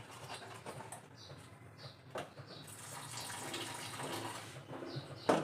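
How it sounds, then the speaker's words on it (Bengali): Water poured into a bowl of batter, a soft continuous trickle and patter lasting several seconds, close and fairly quiet, with faint background noises and no speech. "জল দিলাম"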